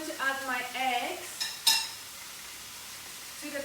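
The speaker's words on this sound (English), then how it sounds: "I'm going to add my eggs" Eggs poured into a frying pan already holding mushrooms, spinach and tomatoes, giving a short wet clatter and a brief sharp clink of utensil on pan amid soft kitchen noise, with a voice talking briefly at the start.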